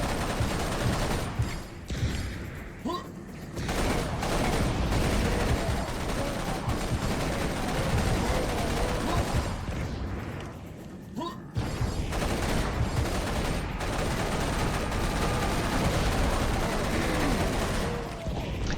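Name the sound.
gunfire during a fight in a video game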